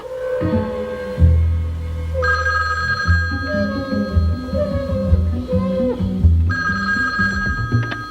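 An old landline telephone bell rings in repeated bursts, loud and close, with a voice speaking over it between and during the rings.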